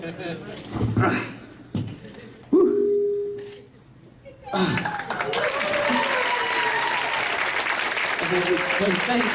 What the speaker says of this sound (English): everybody give John another big round of applause.